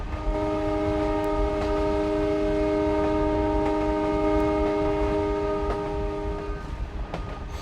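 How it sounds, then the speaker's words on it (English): A train running through Upper Assam sounds a long, loud, sustained horn over the continuous rumble and rattle of the moving rail cars. "The train is slowing down"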